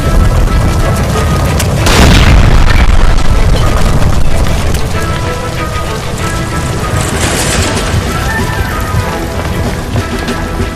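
A gas line explosion in the video game L.A. Noire, a loud deep blast near the two-second mark rolling into a long crackling, hissing debris roar that slowly fades, with no voices.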